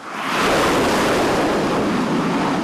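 Ocean waves at sea around an aircraft carrier: a loud, continuous rushing wash of surf and wind that swells in within half a second and holds steady.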